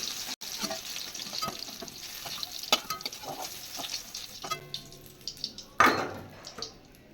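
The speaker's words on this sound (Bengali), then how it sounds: "কাঁকরোলগুলো ভাজা হয়ে গেছে, এবার আমি এগুলো নামিয়ে দেব।" Whole spiny gourds (kakrol) frying in oil in a home kitchen for a vegetarian dish, giving a steady soft sizzle with scattered stirring clinks and scrapes and a louder burst of spattering near the end.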